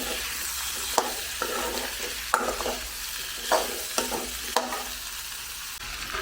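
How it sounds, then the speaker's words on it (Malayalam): Onions, tomato and carrot stirred in a pan for egg stew, a steady close sizzle of frying with scraping clicks from the spoon every second or so and no talk. "ഇതിനെ നമുക്ക് നല്ലപോലെ ഒന്ന് ഇളക്കി ആ സവാളയും ഇതെല്ലാം ഒന്ന് യോജിപ്പിച്ചെടുക്കാം."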